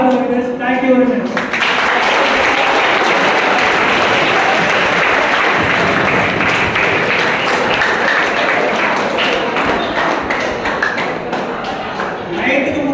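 An audience at a suicide prevention talk at a Government Polytechnic college bursts into loud, sustained applause after the talk ends, dense clapping that follows a brief voice and carries on strongly for several seconds.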